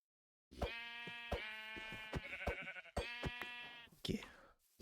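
A white sheep in Minecraft bleats several times, long wavering nasal calls at moderate volume broken by sharp clicks and thuds, with quiet speech underneath.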